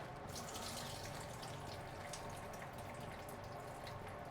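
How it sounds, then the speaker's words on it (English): Water from a pot of boiled potatoes pours steadily into a sink as they are drained, a continuous close rushing splash with no talk. "take and drain the water off our potatoes because they're gonna be ready to go in a second"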